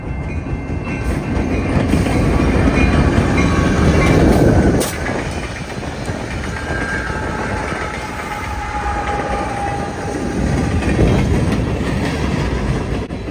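CN freight train M384 with four locomotives, running from Flat Rock, Michigan to Toronto, rolls past loud and close in a continuous heavy rumble with rhythmic clickety-clack of wheels and faint squeals, no talk.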